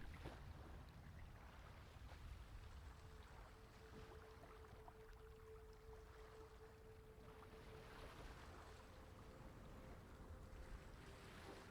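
Ocean surf and wind wash steadily through an ambient soundscape for a D&D session at a stormy seaside tower, a continuous low roar with a faint sustained tone drifting over it, no voices.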